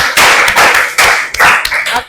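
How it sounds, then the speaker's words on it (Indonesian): Applause from a classroom of students for a presenting group in a biology lesson: a loud, dense burst of clapping with rhythmic swells, close and alone without talk. "Oke, tepuk tangan buat kelompok"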